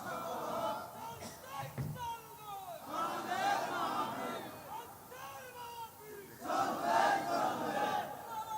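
A large crowd at a Bangladeshi religious gathering roars takbir, Allahu Akbar, in loud massed chanting waves that rise, dip and swell again, with a lead voice calling between the responses.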